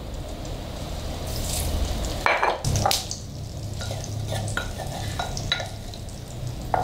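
Seasoning of garlic, salt and pepper sautés in reserved drained fat in a pan on the stove for onion soup, giving a steady close sizzle with stirring scrapes and a brief louder burst midway, no talking.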